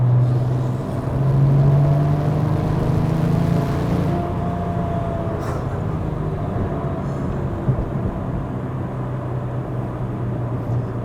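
A Porsche 997.1 911 Turbo with four-wheel drive driven on a wet, damp road, heard as a steady low engine drone and road rumble from inside the car, loud and continuous with a slight swell early on, no talking.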